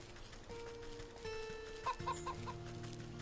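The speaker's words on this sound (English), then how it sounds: "Watch out for the turkeys" Turkeys in the video game Wytchwood, a few short, soft gobbling clucks amid quiet game music and chimes, no talking.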